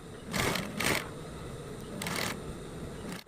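A sewing machine stitches around a satin bonnet, creating an elastic casing, in three short bursts of rapid mechanical whirring separated by quiet pauses, close and fairly soft.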